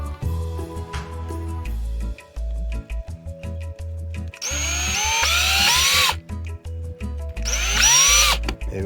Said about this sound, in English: Half-inch loom, bigger than 1/2-inch drill bit.